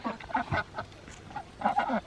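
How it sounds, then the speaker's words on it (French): Ducks quacking in short, nasal bursts, a few calls close together, then a pause before another cluster, moderately near with faint background. "Alors les petits canards."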